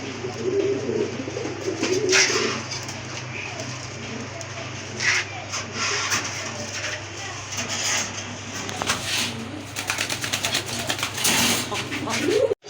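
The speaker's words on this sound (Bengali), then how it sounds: "দেখতেই পাচ্ছেন খামার ভরা কবুতর।" A loft packed with fancy pigeons, including Rajgolla and Gorra types, fills the air with continuous overlapping coos and rustling, with a voice talking over the steady bird noise.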